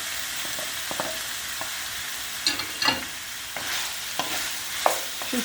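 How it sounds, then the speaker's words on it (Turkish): Beet stalks and beets sauté with onion in a hot pan, a steady sizzle broken by several scraping stirs of a spoon, close and clear with no talking. "Soğanla birlikte bir 5 dakika pancar sapımızı kavuruyoruz"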